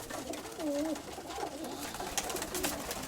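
A grey-and-reddish female pigeon gives a soft, close coo that rolls up and down in pitch, with steady background noise behind it.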